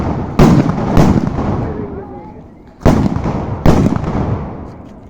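Festival fireworks burst in four sharp, loud explosions, two close together near the start and two more after a pause, each followed by a rumbling decay.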